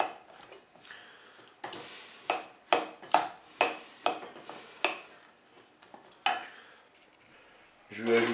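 Chopped ham, mushrooms and olive oil being mixed in a pot, with a utensil knocking and scraping the sides in a steady series of clattering strokes, close and clear.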